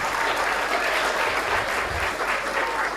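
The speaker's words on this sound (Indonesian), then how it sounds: "Ya, tepuk tangan dong." Students at an education and motivation seminar applauding together, a thick continuous roar of clapping at even loudness throughout, with no speech on top.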